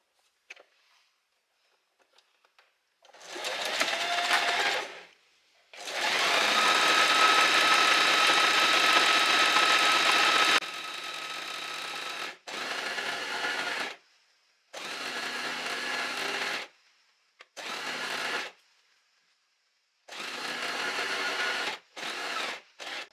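A sewing machine stitches thin dress straps with a 1 cm seam, running in several separate bursts, one long steady run followed by shorter stop-start passes with brief silences between, close and clear with no talking.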